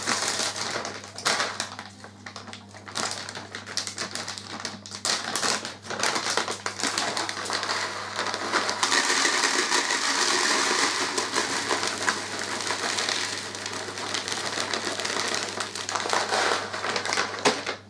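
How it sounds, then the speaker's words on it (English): Carp fishing pellets poured into a bucket give a loud, continuous close rattling rush that starts in bursts and then swells into a dense steady pour for most of the stretch, with no voices. "Got my bucket, and add a small amount of these pellets."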